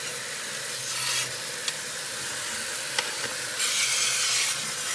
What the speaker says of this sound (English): And the lids, rinse, rinse the lids, rinse, rinse the lids